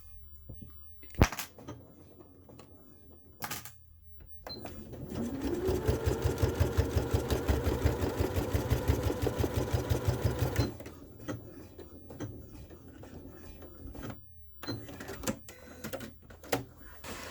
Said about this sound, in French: vous passez à la machine à coudre un petit bout sur chacun des côtés